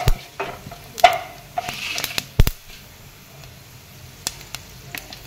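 Whole cumin seeds being stirred in hot oil, with a quiet sizzle broken by several sharp clanks and scrapes of a spoon against the pan.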